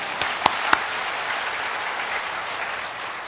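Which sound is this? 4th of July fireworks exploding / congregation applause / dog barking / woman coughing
congregation applause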